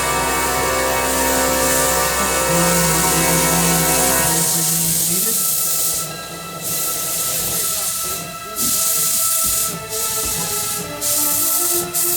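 A train rolls past during worsening storm weather at a railroad museum, a steady loud rumble and hiss with rhythmic clanking bursts that swell and fade as the cars go by, heard alone without talk.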